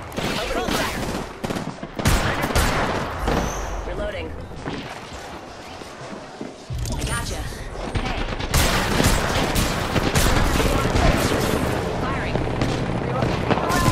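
Dense, rapid gunfire from Apex Legends, with bursts of automatic fire and scattered single shots crackling loudly throughout amid chaotic battle noise and booms, with a player talking over the action.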